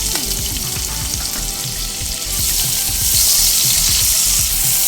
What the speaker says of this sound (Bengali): পেঁয়াজ নরম হয়ে আসা পর্যন্ত একটু ভেজে নেব